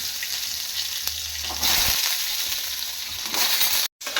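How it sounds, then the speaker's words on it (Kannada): Palak spinach is lightly fried in oil in a pan for a hotel-style paneer gravy, producing a steady, fairly loud crackling sizzle that swells midway, with a brief cut of silence near the end and no talking. "ಸ್ವಲ್ಪ ಹುರಿದ್ಬಿಟ್ಟು ಹಾಕೋಣ ಅಂತೇಳ್ಬಿಟ್ಟು ಹುರಿತಿದ್ದೀನಿ ಎಣ್ಣೆ ಹಾಕಿದ್ದೀನಿ"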